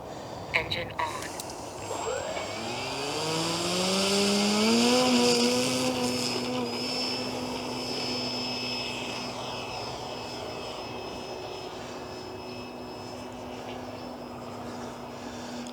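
A propeller tow plane's engine drones nearby, its pitch climbing as it revs up and then holding a steady hum.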